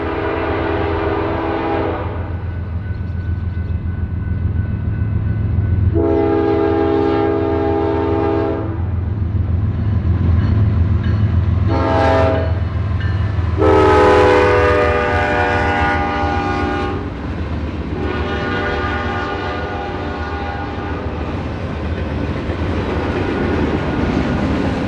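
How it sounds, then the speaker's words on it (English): BNSF freight trains on the Mendota subdivision rolling through Wyanet, a loud low rumble underneath several long, blaring horn blasts in a spaced sequence, the middle blasts short and sharp, with no talking. "let's turn our attention over to the town of Wyanett for two inbound trains on the BNSF Mendota sub"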